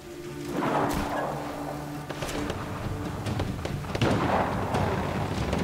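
Heavy booming explosions in the video game Just Cause 3, with a couple of big blasts and rumbling, crackling aftermath that continues steadily between them.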